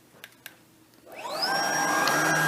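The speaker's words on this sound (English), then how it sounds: "we're just going to do a little moving around with this thing with the vacuum on so you can see it" Shark ION P50 upright vacuum cleaner in carpet mode spinning up after a couple of light clicks, its motor rising into a steady loud whirring hum with a high whine, running alone close by.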